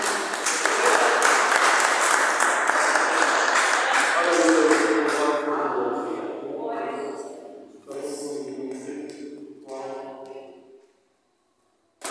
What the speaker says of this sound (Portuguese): As palmas louvam o Senhor nessa noite.